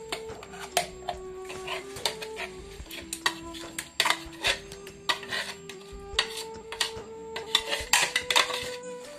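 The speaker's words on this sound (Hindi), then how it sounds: "अब हम इसको कढ़ाई में ट्रांसफर करते हैं।" Pots and utensils clatter and clink in a home kitchen as dum aloo gravy is moved into a kadai with a spoonful of oil. The knocks and scrapes come close and irregular, with a few louder metallic hits throughout.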